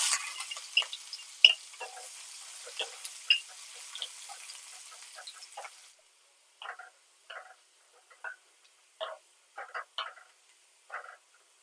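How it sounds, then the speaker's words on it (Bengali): Chopped onions fry in hot oil to make birista for a hilsa fish korma, giving a dense crackling sizzle for about six seconds before it cuts off, followed by sparse scattered clicks and taps. "তেল গরম হয়ে গেছে, এবারে বেরেস্তা ভেজে নেব।"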